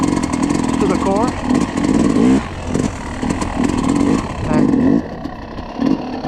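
A Yamaha YZ two-stroke motocross dirt bike engine revs repeatedly in rising and falling bursts, loud and close, with a voice talking over the engine noise.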